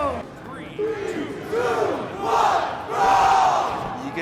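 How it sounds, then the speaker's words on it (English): Arena crowd roaring and chanting at the Brawlhalla World Championship grand final esports event, a swelling mass of cheers and shouts that builds in loudness, with a voice speaking underneath. "You can hear the entire crowd getting into it."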